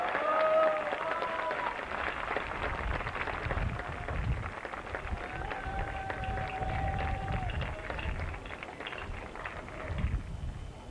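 Crowd applause during player and umpire introductions at a world championship polo match, a broad wash of clapping from a sizable outdoor audience, steady for several seconds, with a public-address voice and murmurs underneath.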